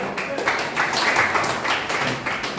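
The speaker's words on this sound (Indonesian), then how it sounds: "Kita tepuk tangan bagi Tuhan." A church congregation claps their hands together during a worship service, a dense, continuous wash of many hands that holds steady throughout.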